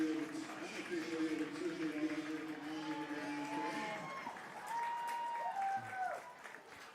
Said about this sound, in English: We got a quick shout out and clap from the fans here at Freeport Athletic Stadium